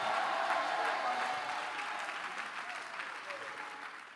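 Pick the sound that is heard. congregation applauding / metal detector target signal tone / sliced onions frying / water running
congregation applauding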